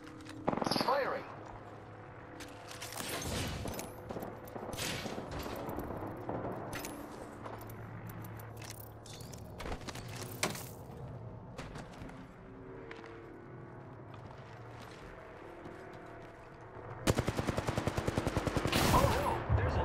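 Bursts of automatic gunfire from an Apex Legends match, with loud rapid volleys near the start and a dense stretch at the end, while a player talks over game sounds throughout.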